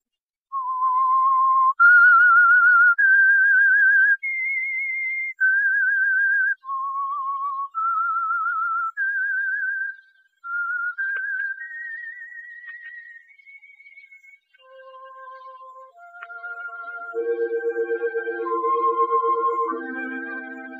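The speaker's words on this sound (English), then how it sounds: "Let that whistle be your signal for the Whistler." Whistled theme signal from The Whistler radio show: a lone, clear whistled melody of sustained rising and falling notes, joined toward the end by soft orchestral backing, with no talk.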